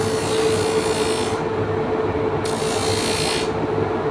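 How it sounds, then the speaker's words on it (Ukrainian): Furniture parts being sanded and edge-rounded on an FSh-1A sanding machine, a steady, loud broadband rasping hiss over a constant machine hum, with brief shifts in the upper grit noise. "Демонструємо вам шліфування"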